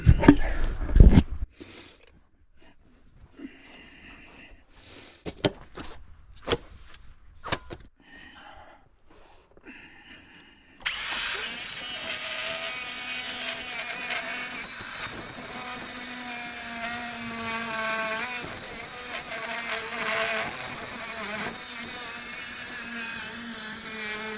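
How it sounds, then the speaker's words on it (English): An angle grinder cuts loudly and steadily into a seized wheel bearing on a Land Rover Defender, a sustained high whine that begins abruptly after about eleven seconds of quiet workshop clatter and scattered knocks. "Right, so out with the grinder again."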